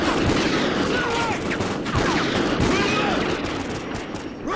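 Dense, loud gunfire during a room breach in Call of Duty Ghosts, rapid overlapping shots and automatic bursts filling the whole clip without pause, with faint shouting mixed underneath.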